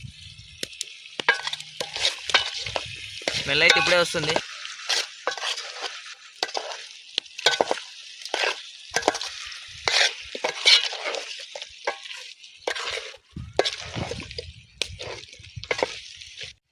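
Chicken curry is stirred in a hot pan, with repeated close scraping and sloshing strokes over a soft sizzle, while a voice speaks briefly.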